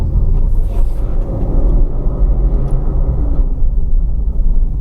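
Manual car engine rumbling steadily up close during a downshift with double clutching and a throttle blip, a continuous loud low drone throughout.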